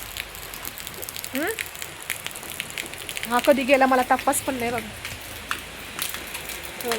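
Steady rain falls through a wet morning, a soft broadband patter with scattered drops, while someone talks over it and a second voice joins in briefly.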